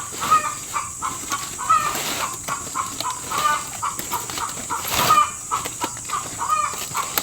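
Chickens cluck steadily around a low-budget backyard nest setup on a traditional farm, repeated short calls at a regular pace over a constant hiss of outdoor background noise, with no one talking.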